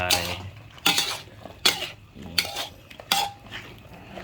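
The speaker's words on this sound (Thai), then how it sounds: "ได้เวลาเนาะเขาใส่มะเขือลงไปเหมือน ใส่มะเขือนะครับเนาะลงไป" Long eggplant stir-fried with pork in a pan: a metal spatula scrapes and tosses the food in steady strokes about every three-quarters of a second, with a soft sizzle beneath, close and fairly loud.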